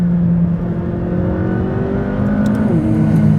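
McLaren 570S with a 7-speed dual-clutch gearbox accelerating hard, a loud close engine roar rising in pitch through the revs, with a brief shift blip near the end.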